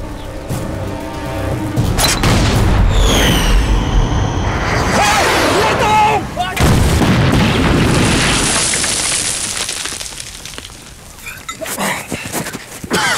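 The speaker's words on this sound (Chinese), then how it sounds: "长官，你别上了，我开炮行吗？" Artillery cannon fire in a wartime battle scene, loud booming blasts and rumbling explosions with debris and whooshing, dense and overwhelming, shouting voices mixed in.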